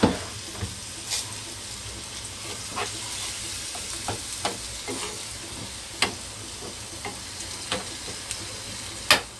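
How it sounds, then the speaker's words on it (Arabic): Spinach fries in a pan with a steady low sizzle, broken by intermittent sharp clicks and taps of a utensil against the pan. "كيف تقلى هاد الصبانخ اللي جبت من الكونفيراتور"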